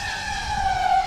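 An FPV quadcopter on 2-blade APC or 3-blade Gemfan 5147 props passes at half throttle, a steady high-pitched motor whine that rises slightly as it sweeps by, fairly close, with no voices.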